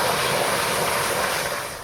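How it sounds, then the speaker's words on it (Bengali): Water pours into a wok while prawns and taro stolons are being cooked, a broad, steady rushing splash lasting under two seconds that tapers off slightly at the end. "কড়াতে জলটা দিয়ে দেবো।"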